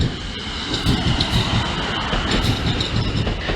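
Class 450 electric unit 450038, a service from London Waterloo, pulls into Basingstoke station with a loud close rumble of wheels, rail clatter and faint squealing brakes, and nobody speaks.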